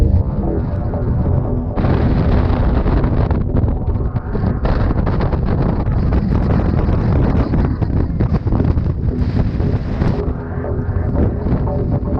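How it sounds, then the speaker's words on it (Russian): Strong wind, about 61 km/h, on frozen Lake Baikal buffeting a microphone, a steady roar with heavy gusts and rumbling throughout, no voices. "сегодня ветер, по крайней мере, телефон мне показывает 61 км в час"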